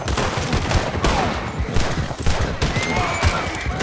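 Gunfire in the Red Dead Redemption 2 video game, a dense, continuous volley of close, loud shots overlapping one another, with hints of horses amid the shooting.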